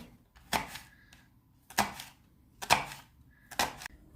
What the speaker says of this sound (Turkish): Şöyle incecik kesiyoruz. Piyazlık gibi pırasamızı.